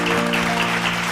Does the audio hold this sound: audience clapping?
yes